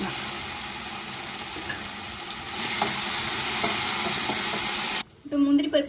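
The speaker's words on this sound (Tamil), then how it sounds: "இப்போ ஃப்ரை பண்ணி வச்ச சிக்கனை அதில் சேர்த்து மிக்ஸ் பண்ணிக்கலாம்." Fried chicken being stirred into a bubbling dragon chicken sauce in a pan gives a steady sizzle with scraping and clinks. The sizzle cuts off near the end, followed by a brief burst of louder clatter.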